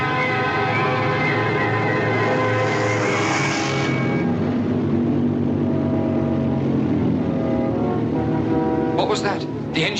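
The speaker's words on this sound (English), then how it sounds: "The engine changed its noise." A loud droning aircraft engine hums steadily, its pitch sagging lower as the roar eases off, with a brief voice near the end.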